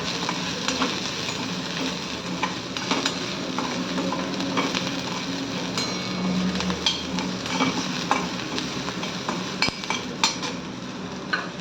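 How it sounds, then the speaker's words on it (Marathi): Capsicum, French beans and paneer being sautéed in a pan, with a steady close sizzle and frequent clinks and scrapes of a spoon stirring against the metal throughout, no talking. "एक 2 मिनिटं आपण परतून घेणार आहोत।"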